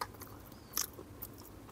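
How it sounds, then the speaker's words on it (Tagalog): Someone chewing food right at a close microphone, with a few soft bites and one sharper crunch amid quiet mouth sounds and no talking. "narinig niyo yung nguya ko kasi naka-mic ako"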